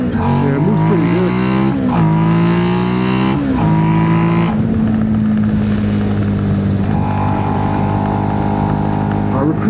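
Suzuki SV650 motorcycle engine pulling hard on the road, a loud, close whine that climbs in pitch through a couple of gear changes, then settles into a steadier drone at cruising speed over heavy wind rush.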